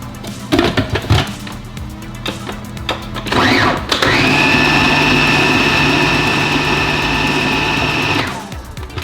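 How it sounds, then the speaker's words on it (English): A food processor blends a mixture with freshly squeezed lemon added, a loud high-pitched whir starting after some handling clatter and running steadily for about four seconds before winding down. "So we are going to add our freshly squeezed lemon to the mixture and do another processing here."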